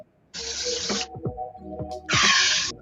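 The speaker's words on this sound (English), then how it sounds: "We just need to get a little bit of spray release on here." Two bursts of aerosol mold release sprayed onto a two-piece silicone mold, a sustained hiss each about a second long separated by a short gap with some clattering in between.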